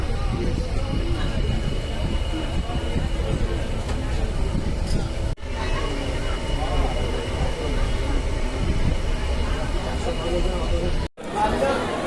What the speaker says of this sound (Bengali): দেখতে দেখতে আমাদের ট্রেন ঢুকেও গেল।